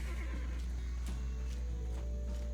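A horse whinnies in the video game Black Desert, a faint, brief neigh over a constant low hum and soft game background sounds.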